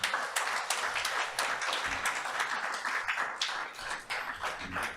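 A literary festival audience claps after a spoken reading, a brisk, fairly dense round of applause from a small crowd, close and steady for the whole stretch.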